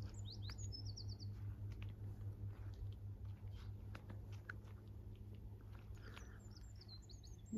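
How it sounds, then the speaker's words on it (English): A whitethroat sings along a busy hedge-lined fence at Coombe Bottom, Ventnor, its scratchy high phrases coming in brief bursts over steady low background rumble, with other birds calling faintly. "it's another whitethroat just behind."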